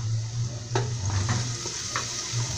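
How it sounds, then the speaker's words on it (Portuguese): Chicken feet fry in a pot with a steady sizzle. A utensil scrapes and clinks against the pot a few times over a constant low background hum. "Vou dar uma fritadinha nas coisas, vou pôr o pezinho."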